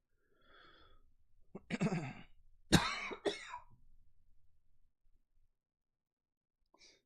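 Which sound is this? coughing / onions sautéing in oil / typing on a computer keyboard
coughing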